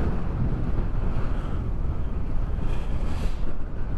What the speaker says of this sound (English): Certainly got the wind for it today.